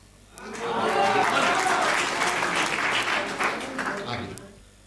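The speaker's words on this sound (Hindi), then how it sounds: "अब रोकना तालियां।" A burst of audience applause at a Hindi comedy poetry gathering swells up quickly, holds strong and dense for a few seconds, then fades out with scattered claps.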